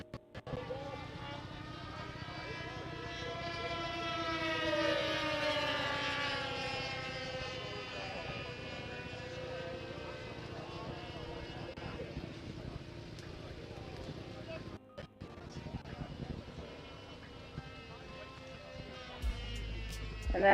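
A propeller aircraft flies a circuit at the Woodspring Wings air show. It sweeps past overhead with a rising, then falling drone and banks away through a sharp turn before fading toward landing, under a steady announcer's voice.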